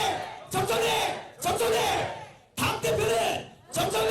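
Crowd at a political party leadership campaign rally chanting a candidate's name in unison, loud bursts repeated in a steady rhythm of about four shouts, close and filling the space.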